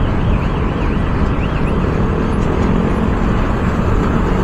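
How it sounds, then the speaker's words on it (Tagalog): Dense roadway noise from cars in a long traffic jam near a flyover makes a loud, steady engine and tire rumble with a continuous low drone and no talk. "Haba ng traffic."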